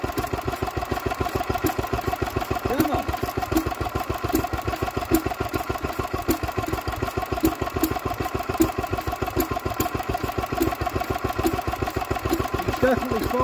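Old Lister D diesel engine running just after its first start in decades, a steady, rapid thumping beat that chugs evenly and stays close and loud, with voices heard over it.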